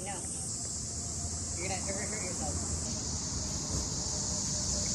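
Cicadas buzz in a dense, continuous high-pitched drone filling the outdoor air, loud and unbroken under faint background chatter.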